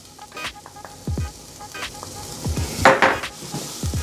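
A spoon stirs vegetarian chili with paste in a pot, giving irregular clinks and scrapes against the metal over a low background sizzle, close by and moderately loud.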